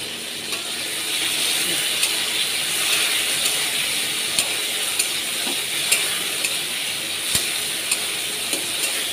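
Potato, ridge gourd and eggplant fry with green chilli, whole cumin, bay leaf, garlic and salt, a steady close sizzle broken by sharp utensil clicks and scraping taps spaced through the frying, with no speech.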